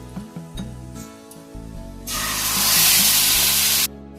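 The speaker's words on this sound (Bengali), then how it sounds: "এবার আমি দেব যে মশলাটা রেডি করে রেখেছিলাম, এই মশলাটা" Spice paste hits hot oil in a pan with a sudden loud sizzling hiss that lasts almost two seconds, following a stretch of low background hum, close and alone.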